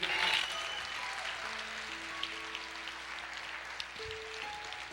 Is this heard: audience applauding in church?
yes